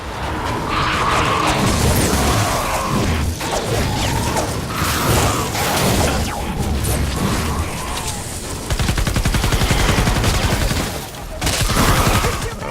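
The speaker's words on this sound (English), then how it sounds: "Let's see what some grenades do." Grenades going off in the Fortnite Save the World shooter, a dense game mix of booms, gunfire bursts and whooshes that stays loud and continuous throughout, with a voice talking over parts of it.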